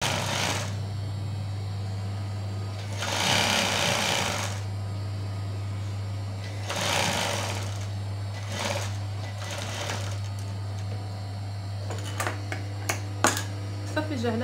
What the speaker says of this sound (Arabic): هنا دابا غندوز واحد الخياطه في هذا العنق